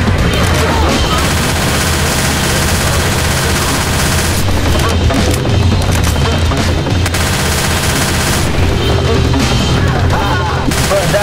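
Rapid, sustained SMG fire in Left 4 Dead 2 runs loud and continuous through the whole stretch, with dense overlapping bursts and a few brief dips, and no voices over it.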